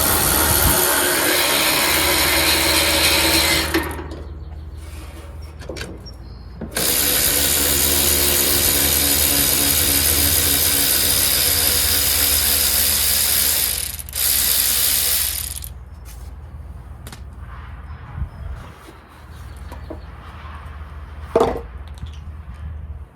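A ratchet removing the air cleaner from a Tecumseh OHV 135 engine on a Yard Machines 13.5 HP lawn tractor, dense rapid clicking in long bursts broken by pauses, then fainter scattered clicks and a clank.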